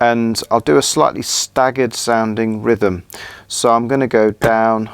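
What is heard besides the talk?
No everyday noise stands out behind the speech.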